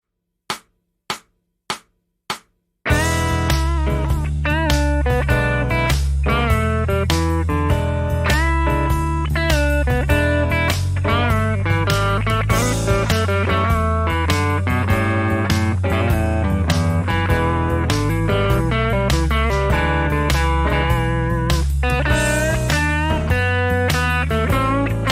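Four count-in clicks lead into a full band groove while an overdriven electric guitar plays a busy blues solo over it, loud and continuous.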